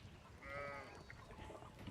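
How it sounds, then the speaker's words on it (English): Sheep in the video game Pentiment give a faint, wavering bleat in the middle of a low, rumbly game soundscape, quiet and somewhat distant, with no one talking. "we need to get these sheep under control"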